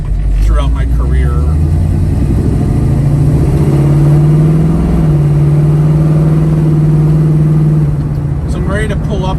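A 1971 Pontiac Firebird rolls up to a warehouse, its engine a steady low rumble that swells slightly as it moves, close and continuous under the cabin.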